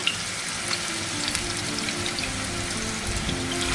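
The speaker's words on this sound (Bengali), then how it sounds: "এই কাবাবটা তৈরি করতে তেলের পরিমাণ খুব কম লাগে যেটাকে আমরা বাংলা ভাষায় বলতে পারি ছ্যাঁচা তেল অর্থাৎ ডিপ ফ্রাই না" Chapli kabab in Old Dhaka style shallow-fries in a small amount of oil, filling the air with a loud, dense, continuous crackling sizzle and scattered pops, close by and without voices.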